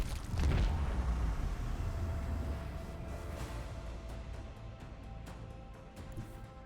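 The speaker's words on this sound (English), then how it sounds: "Macro cannons volley." Macro cannon volley in the Warhammer 40K Rogue Trader video game: a heavy booming blast up front, then a long rumbling roar with scattered crackling impacts fading slowly, no talk.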